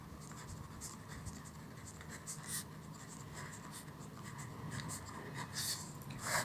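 Pen scratching steadily across paper or a board while an equation is written during a Hindi physics revision class, a continuous close scribbling texture with faint room noise and no talk.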